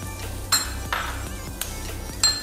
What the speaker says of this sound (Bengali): এবার গাজর ছেড়ে দিচ্ছি